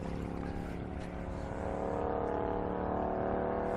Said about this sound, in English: Hear that motorcycle going across the bridge? It's kind of loud.